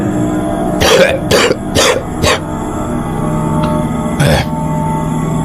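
An old man coughs and clears his throat in a close series of rough bursts, four in quick succession and then one more after a pause, over a steady low background hum.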